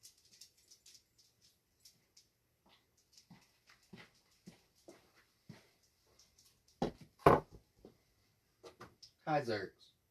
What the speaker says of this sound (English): My dog was at the door.